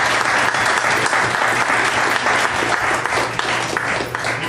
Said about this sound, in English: I'd like to give him another hand of applause